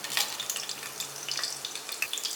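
Cashews sizzle as they fry in hot oil with whole spices such as bay leaf, cloves, cardamom, cumin, black pepper and cinnamon for a pea pulao: a steady close crackle with small popping bursts, no voices.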